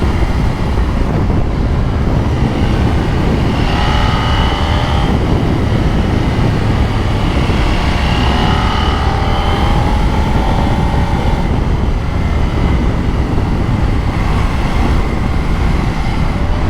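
A KTM Duke 890 with a twin-cylinder engine is ridden on the road, its engine droning steadily with wind rush throughout and rising and falling revs audible as it accelerates.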